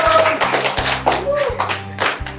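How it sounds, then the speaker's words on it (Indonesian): An audience at a santri discussion forum claps in a crisp, busy burst of applause that holds steady throughout, close and fairly loud, with a voice speaking briefly over it. "Tepuk tangan untuk Kang Mujib."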